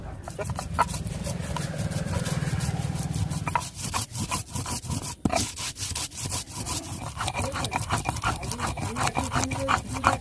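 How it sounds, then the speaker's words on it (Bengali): Spices being ground by hand on a shil stone slab for a vegetarian paneer curry, a rough rhythmic rubbing and scraping of stone on stone, close and loud, with repeated strokes growing choppier midway. "আমি এই মশলাগুলো শিলে বেটে নেব"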